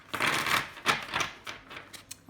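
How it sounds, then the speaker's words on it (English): Close, quiet shuffling of oracle cards, a series of uneven papery flicks and taps in quick succession, with no voices. "So they shuffle really lovely."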